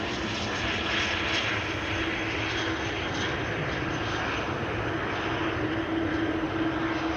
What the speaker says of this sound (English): this is the Ryanair Learjet arriving from Stansted